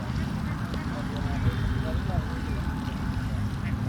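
Ducks quack on a duck farm holding more than a thousand birds, heard as a dense, steady chorus over constant low rumbling background noise, with voices present at times.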